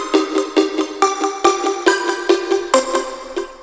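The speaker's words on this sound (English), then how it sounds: "Really cool plucky sound" Tight, bright synth plucks from a Nexus preset play a quick, bouncy melodic pattern of short notes, loud and upfront with no other sounds.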